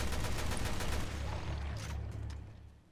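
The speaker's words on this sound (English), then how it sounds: "Let's get the machine gun out." A machine gun fires in the video game Resident Evil Revelations 2, sustained rapid automatic bursts that are fairly quiet and distant-sounding and fade out toward the end.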